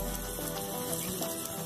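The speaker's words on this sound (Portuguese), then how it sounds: "vocês podem ver o bacon e a calabresa estão bem fritinho" Lean bacon and calabresa sausage fry in a pan with a continuous close, crackling sizzle that holds steady throughout.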